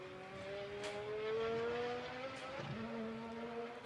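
A KTM GT2 race car drives over a brow during qualifying at the Algarve circuit, its engine note rising and shifting steadily at moderate distance for a few seconds, with commentary underneath.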